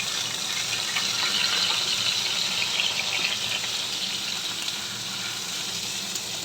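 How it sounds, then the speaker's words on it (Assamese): Steady sizzling of okra frying in a pan with ginger-garlic paste for masala bhindi, a constant close hiss running unbroken with no talk. "মই এইখিনি 5 মিনিটমান ভাজিম একদম।"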